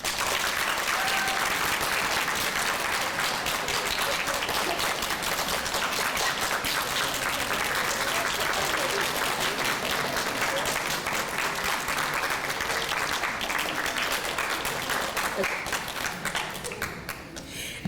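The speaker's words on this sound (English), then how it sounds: "please salute your families with applause" A graduation ceremony audience at a New Orleans girls' academy claps in sustained, dense applause filling a large hall, steady and loud throughout before tapering at the end.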